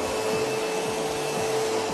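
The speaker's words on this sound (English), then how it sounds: "So next, Mr. Trump, I'm going to need you to vacuum" A vacuum cleaner drones steadily and loudly at close range, its motor whine holding a constant pitch with faint rhythmic bumps from the head moving across the floor.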